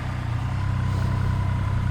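Close and loud, a 2026 Triumph Trident 800 motorcycle's triple-cylinder engine on its stock exhaust runs at a steady, even idle, a low, pulsing thrum without speech.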